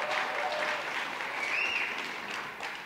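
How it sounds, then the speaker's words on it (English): Steady round of applause from a seminar audience, a continuous wash of clapping at moderate loudness with a faint whistle-like tone briefly rising through it. "give them a freaking round of applause"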